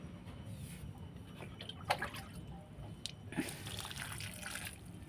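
Water drains out through the drainage holes of a rooftop garden plant pot, a faint trickle with scattered drips and small splashes, one sharper drip standing out midway.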